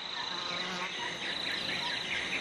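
Mosquitoes buzz in a close, continuous high-pitched whine, steady and fairly loud, heard alone without any voices, set in a jungle on New Guinea.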